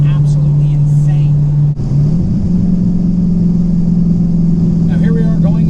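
A Dodge Hellcat Redeye's engine drones steadily while accelerating, with a brief dip partway through as the automatic gearbox shifts up before the engine pulls again.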